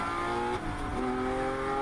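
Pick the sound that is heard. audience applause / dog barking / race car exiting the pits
race car exiting the pits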